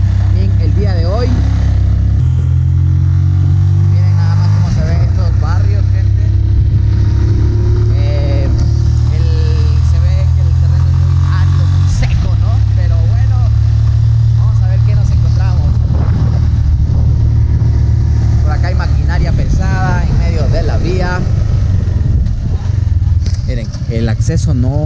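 A motorcycle rides along a rough access path toward an abandoned mansion at Uyachul. Its steady, loud, low engine drone runs throughout, with voices and some noise over it.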